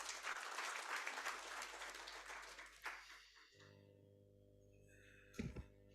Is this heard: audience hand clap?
yes